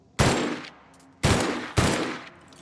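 Three loud, booming shots from the light gun in The Outer Worlds video game, each with a long ringing decay, the first standing alone and the last two in quicker succession.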